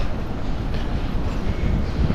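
Manila MRT train rumbling nearby, a loud, continuous low roar with wind-like hiss and no breaks, no voices heard.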